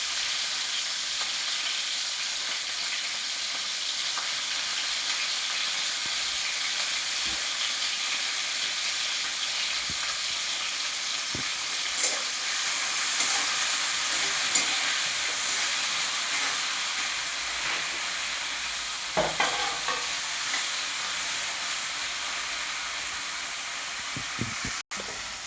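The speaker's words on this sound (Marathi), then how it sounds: "आता मी बटाटे टाकी द्यायचा, हिरव्या मिरच्या पण टाकते लगेच. छान परतून घ्यायचं आपल्याला छान." Diced potatoes and green chillies sautéing in a pan for sabudana khichdi, a steady soft sizzle and hiss with occasional stirring scrapes and clinks, fairly quiet and without talk.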